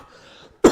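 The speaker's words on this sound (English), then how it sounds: "Sorry for the coughing." A single short, loud cough from someone ill with Covid, breaking abruptly after a near-silent pause.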